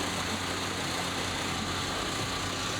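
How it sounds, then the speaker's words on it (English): A car idles and rolls slowly through a parking lot at a car show, a steady low engine rumble held at an even level for the whole stretch with no voices. "Got vehicles rolling around the parking lot"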